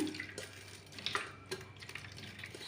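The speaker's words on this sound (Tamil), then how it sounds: "நீங்கள் பாருங்கள் எவ்வளோ தண்ணி வருது பாருங்கள்" Juice and water from chopped watermelon trickle and drip through a strainer for a halwa recipe, a soft, close, continuous splashing with small irregular drips throughout.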